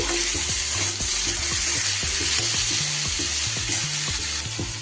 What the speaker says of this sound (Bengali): সবজি কিন্তু আমার সুন্দর করে ভাজা হয়ে গেছে